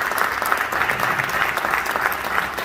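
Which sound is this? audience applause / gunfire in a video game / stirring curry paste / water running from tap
audience applause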